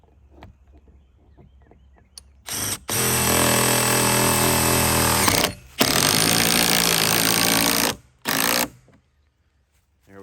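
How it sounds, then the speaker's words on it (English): DeWalt 3/8 impact driver running a lag bolt with washer into a tiny house, heard as two long loud bursts of rapid hammering impacts, then a short final burst, after quiet near the start. "run that in with our DeWalt 3/8 impact driver"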